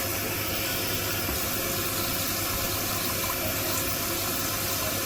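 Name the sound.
warm water being poured onto soil discs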